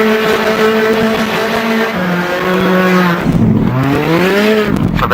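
Rally car in Richard Burns Rally cornering into a hairpin with the handbrake: a loud engine note drops as the car slows, then climbs again under a brief squeal as it powers out.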